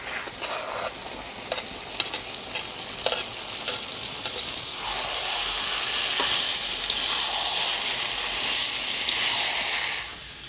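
Fried potatoes are stirred into sizzling chicken curry, a loud, steady frying hiss with repeated scraping stir strokes, close up and continuous until it fades at the end.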